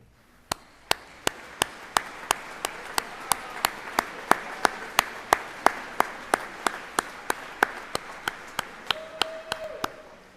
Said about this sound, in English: let's give these individuals a well-deserved round of applause